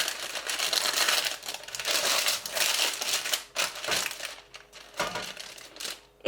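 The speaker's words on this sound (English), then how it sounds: "with that I can just line it with some grease-proof paper or baking" Grease-proof baking paper is crumpled and crinkled to line a plain baking tray in a home kitchen, loud close rustling and crackling in bursts with short pauses.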